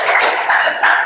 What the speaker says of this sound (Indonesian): Oke, tepuk tangan dulu lah untuk kelompok